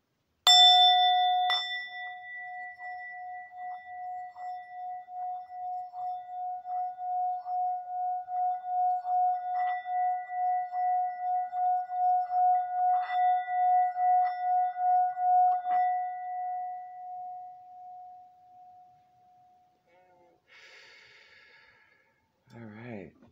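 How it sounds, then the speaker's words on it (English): A singing bowl struck once, ringing with a long, steady pure tone and slow pulsing beats that swell and then fade over about twenty seconds, with a faint rustle at the end. "Hitting the bowl now."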